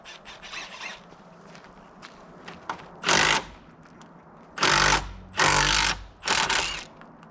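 Small impact driver running in loud bursts, one short burst followed by three longer, harsh whirring runs separated by brief pauses, close up and without talk.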